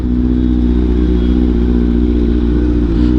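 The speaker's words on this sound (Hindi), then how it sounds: "दोनों लड़कियां बाइक चला रही हैं भाई" Motorcycles, one a Kawasaki, riding past on the road: a loud, steady, close engine drone with low harmonic rumble and slight revving toward the end, with no voices.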